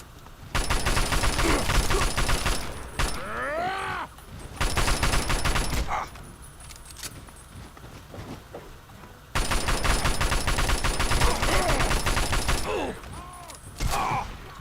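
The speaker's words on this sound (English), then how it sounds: "Suppose I could lay into them with the assault rifle a bit more." Bursts of assault rifle gunfire in the video game Fallout 3, several loud sustained volleys of rapid shots separated by short pauses, with grunts and impact sounds between them.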